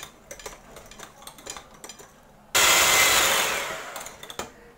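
Cream whipped with an electric hand mixer: after light clinking of utensils, the mixer kicks in with a sudden loud whirring roar that holds steady for about two seconds, then cuts off, followed by more soft clatter.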